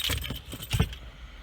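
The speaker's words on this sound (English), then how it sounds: "Keys are falling on the floor again." Set of keys falls and jangles onto the floor, a close metallic clatter with a couple of bumps that quickly dies away.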